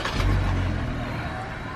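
A 2021 Jeep Gladiator Willys engine catches with a loud low burst, then settles into a steady deep idle rumble heard close from inside the cabin.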